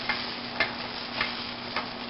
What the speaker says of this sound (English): You hear it sizzling there?